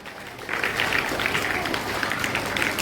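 Students at a school assembly at DAV Public School, Patna, clap to welcome a speaker, a steady crowd applause swelling after a half-second lead-in and carrying on evenly throughout.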